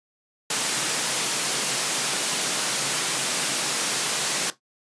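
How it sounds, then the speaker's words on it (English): White noise passed through a filter, a steady broadband hiss that switches on abruptly, holds at even loudness for about four seconds, then cuts off, with no voices. "we have a white noise machine. So every frame, we're just going to get another sample of noise and send it through the filter."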